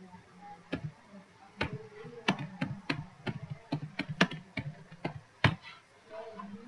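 Keys clatter on a computer keyboard as a file name is typed into the file properties summary of a CAD part, an irregular run of close, crisp taps with short pauses, no talk.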